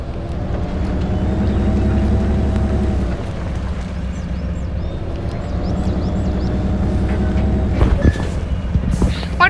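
A truck engine in the off-road driving game Spintires MudRunner rumbles steadily with a deep low drone that shifts in pitch. A few sharp clanks come near the end.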